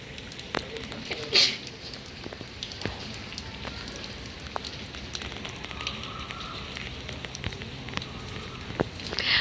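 Monsoon rain falls as a steady hiss with scattered crackling drops on a surface. A voice speaks briefly and a faint chirp comes through in the background.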